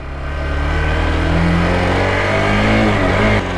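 A Hero Xpulse 200 motorcycle riding on tarmac, its engine droning loud and close as revs climb steadily, then dipping and shifting near the end, with steady road and wind noise and no talk.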